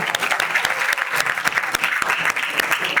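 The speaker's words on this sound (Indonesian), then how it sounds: "Beri tepuk tangan yang meriah" A room of students at an Islamic school religious talk breaks into applause, dense continuous clapping close by for the whole stretch with no speech over it.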